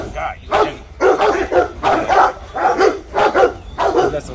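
Litters of young puppies barking and yipping in short repeated bursts close by, with a person talking over and between the barks.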